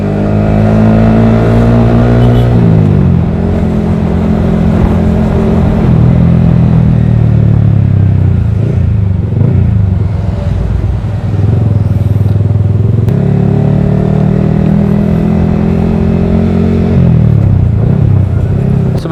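A Yamaha R15 V3 motorcycle fitted with a Daytona Evolution exhaust revs loud and close, its engine note climbing and falling in steady throttle sweeps with no talk over it.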